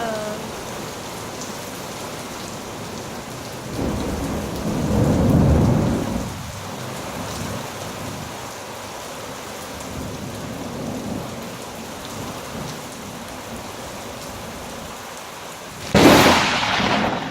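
Steady heavy rain from a supercell thunderstorm with hail in Rosenberg, a rumbling swell of thunder midway and a sudden loud crack from a close lightning strike near the end, no talking.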